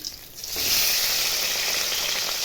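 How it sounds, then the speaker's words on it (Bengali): Rohu fish sizzles in a frying pan: a hissing fry that swells after a brief quieter moment and then holds steady, close and fairly loud, with no talking. "এই দিকটা ভেজে নেবো ভালো করে"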